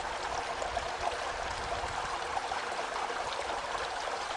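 A flowing waterfall stream in green natural surroundings, heard as a steady, dense rush of water, fairly loud and continuous with no voices.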